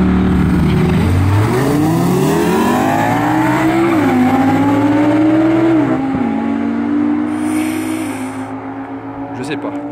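Race cars, an Audi R8 among them, roar down the straight of the Félix Guichard circuit at Sainte-Anne, with a loud engine note climbing through gear changes, then fading as the cars draw away.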